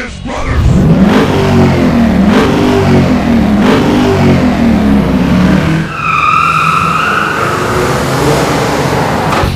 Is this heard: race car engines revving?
yes